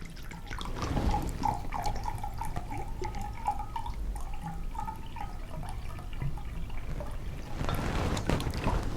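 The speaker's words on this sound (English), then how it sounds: "We'll start with a cup of spring water" Mountain Valley spring water poured into a cup, a steady trickling stream with light dripping, close and quiet, running for several seconds before tapering off, with no talking.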